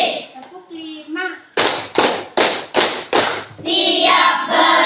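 A classroom of children claps in a quick rhythmic routine, five sharp group claps in a row, with chanted voices just before and after.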